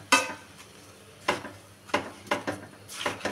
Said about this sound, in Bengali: আমি একটু নাড়িয়ে দিলাম